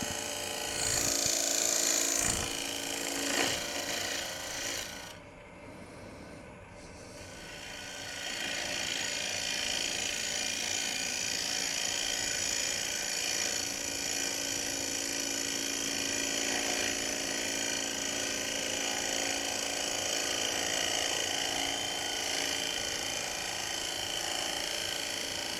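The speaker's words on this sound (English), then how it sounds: "let's take a couple of more cuts in like so, and we're going to basically form that tenon at this point" Ring bowl blank spinning on a wood lathe while a tool takes cuts to form a tenon, a steady broadband scraping hiss running continuously after a brief pause near the start.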